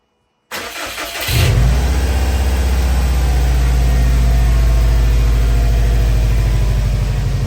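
A Subaru engine, just fitted with repinned ignition coil pack connectors, cranks for about a second, catches and settles into a loud, steady, close-up idle with no voices.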